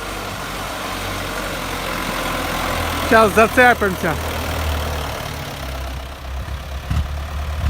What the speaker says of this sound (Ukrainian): МТЗ повноприводний спускається. Воно їде.